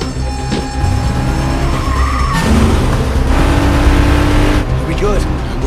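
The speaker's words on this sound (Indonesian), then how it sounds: "Kemudian melarikan diri menggunakan mobil polisi dan bersembunyi di dalam kontainer" A police car speeds away in an action film heist escape, its engine roaring loudly and steadily with tire skidding, layered under dramatic music and voices.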